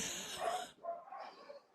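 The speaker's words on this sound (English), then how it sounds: "I hear you having a dog attack in the back" Dogs barking in the back of a room at a delivery person somewhere in the neighborhood, a short burst of yaps and woofs that dies off and returns more faintly, with no talk over it.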